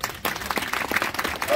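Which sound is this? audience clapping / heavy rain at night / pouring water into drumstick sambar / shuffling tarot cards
audience clapping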